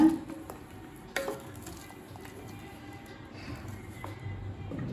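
A spoon scrapes and stirs through a thick samba wheat semolina mixture in a pot, with soft repeated scraping, a couple of sharper clinks, and a low background hiss.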